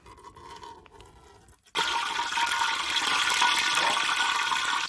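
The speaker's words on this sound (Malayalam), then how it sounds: "നമുക്ക് ഉള്ളി ഫ്രൈ ചെയ്ത് മാറ്റാനുള്ള ഓയിൽ ഒഴിച്ചു കൊടുക്കാം" Oil poured into a hot copper pot on a village stove for frying onions: a quiet trickle first, a brief pause, then a loud steady rushing pour that continues to the end.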